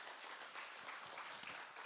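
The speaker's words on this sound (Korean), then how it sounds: "여러분 박수 한번 보내주십시오" An audience at a university faculty development seminar applauds in a steady, quiet wash of many hands clapping, heard from a distance with no talk over it.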